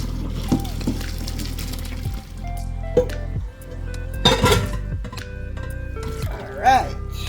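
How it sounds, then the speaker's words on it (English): Boiled potatoes are strained out of hot water in a pot, with water pouring and splashing, metal pot clinks and scrapes, and a low steady hum beneath. "So now I'm gonna strain the potato off the hot water."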